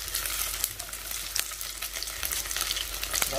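Vietnamese fried pork patties (chả rán) fry in hot oil in a home kitchen, giving a constant close crackling sizzle with scattered sharp pops throughout.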